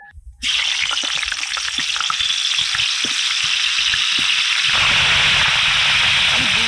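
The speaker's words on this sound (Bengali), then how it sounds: "কড়া গরম হয়ে গেছে এবার কড়াইতে দিয়ে দিচ্ছি সাদা তেল" White oil hits a hot wok with a sudden loud sizzle after a moment of quiet, settling into a steady crackling fry that swells again near the end.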